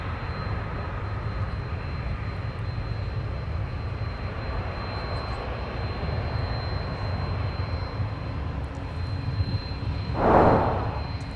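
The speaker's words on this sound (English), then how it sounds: "That was a long float for Delta 165 Heavy before touchdown." A Delta 165 Heavy jet touches down at Minneapolis–Saint Paul airport, a steady distant engine rumble and roar with a short louder burst near the end.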